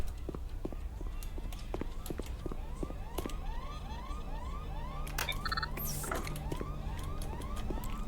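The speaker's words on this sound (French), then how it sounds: "Pourquoi il y a une alarme incendie?" A rising and falling electronic fire alarm in the video game Black Mesa repeats in quick cycles throughout, steady and moderately loud, with a few sharp clicks and bursts over it.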